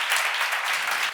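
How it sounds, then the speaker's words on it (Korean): An audience at a church seminar applauds together, a dense, even burst of many hands clapping that fills the short moment at a steady level. "믿는 사람은 박수 한번 쳐보세요."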